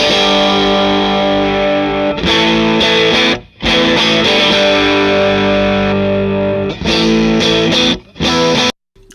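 Electric guitar, a Strat or Tele, played through a Matchless HC-30 amp on channel 2 into an open-back cabinet with no overdrive, ringing sustained chords with brief gaps and a short silent break near the end, loud and alone.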